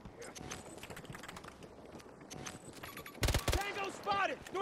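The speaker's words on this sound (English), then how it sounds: "But I can hear his footsteps?" An enemy player's footsteps in Battlefield 2042 tap out a quick irregular patter of close clicks amid game noise. A voice talks over them, and a loud burst and rising tones come near the end.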